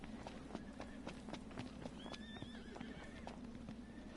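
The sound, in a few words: horse hooves and neighing in video game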